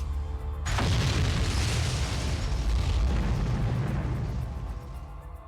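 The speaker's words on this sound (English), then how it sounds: "That was a bomb." A bomb blows up in MapleStory: after a quiet moment comes a sudden loud boom, then a long roaring, rumbling blast that slowly fades.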